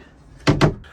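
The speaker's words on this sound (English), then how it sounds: "I've also put in a little cupboard door" A small cupboard door in a camper van kitchen shuts with two quick, loud wooden knocks in close succession, near and alone.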